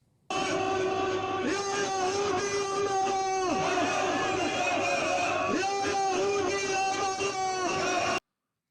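Crowd of Hamas supporters at a rally chanting loudly in unison, with rhythmic, repeated shouted phrases from many voices rising and falling together for several seconds.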